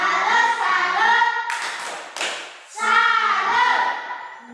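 A classroom group performs the 'tepuk salut' clap: children's voices chant rhythmically in unison, broken by two short, loud bursts of group clapping in the middle before the chanting resumes.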